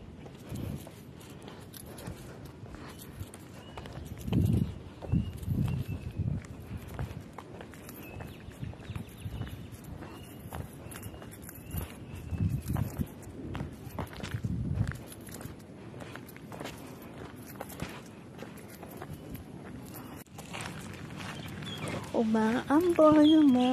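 Footsteps of someone walking outdoors along a long road on foot, a steady, fairly soft stepping rhythm that continues for the whole stretch, with faint birds in the background and a brief voice near the end.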